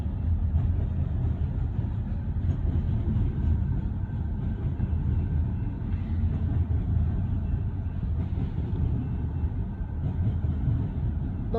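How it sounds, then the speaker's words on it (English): A train passes at Hoxie, producing a continuous low rumble and rolling rail noise at moderate loudness that holds steady the whole time. "Wait a minute, it sounds like another train."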